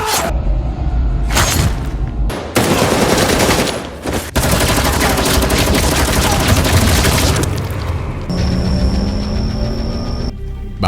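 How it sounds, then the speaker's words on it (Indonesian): Gunfire in a Vietnam War film firefight inside Viet Cong tunnels: dense, loud bursts of automatic fire and booming shots, briefly broken by short pauses, with a high whine and a low rumble toward the end. "tim 2 bertemu dengan musuh sehingga kontak senjata pun terjadi"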